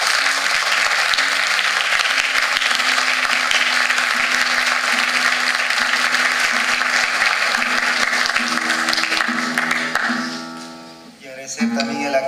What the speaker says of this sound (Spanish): Yo quiero pedir un fuerte aplauso para ellos